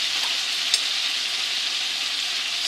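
Perch fillets coated in egg and cracker crumbs frying in a pan, a steady, fairly loud hissing sizzle with one small crackle, heard alone without talking.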